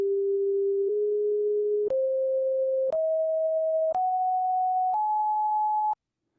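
Pure electronic tones from a signal generator step upward through a solfeggio scale, each held about a second with a sharp click at every change, six steps before stopping abruptly.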